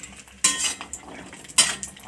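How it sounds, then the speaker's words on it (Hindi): Cashews being lightly fried in ghee in a pan, heard as two sharp metallic clinks of a spoon against the pan over a faint, quiet sizzle. "काजू जो है बहुत जल्दी लाल हो फ्राई हो जाता है"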